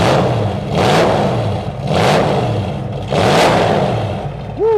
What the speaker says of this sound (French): la voiture étant froide, je ne vais pas accélérer très fort